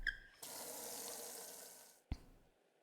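A kettle being filled at a tap in a video game: a steady rush of running water lasts about two seconds, opening with a brief tap squeak and closing with a sharp clunk as the flow cuts off, heard close with no talk.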